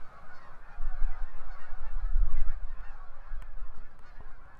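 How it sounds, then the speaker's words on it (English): Many geese honk repeatedly in a loud, overlapping chorus over a marsh during fall migration, their calls carrying through open air with a low rumbling wind underneath. "you can still hear the loud honking as it resonates across the"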